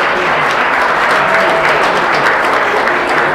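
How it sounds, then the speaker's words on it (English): A school board meeting audience gives sustained, even applause for high school Destination Imagination winners. The dense clapping fills the room at a steady level. "Let's give our high school Destination Imagination winners a big round of applause."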